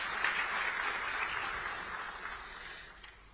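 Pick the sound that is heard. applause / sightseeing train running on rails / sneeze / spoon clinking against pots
applause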